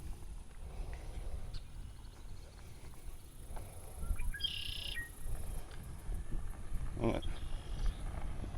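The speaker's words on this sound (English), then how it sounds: "I'm not sure what kind of bird that is." A bird calls a few times outdoors at wetlands in Beaumont, Texas, with brief chirps and a short warbling phrase standing out over a steady background hum and rustle.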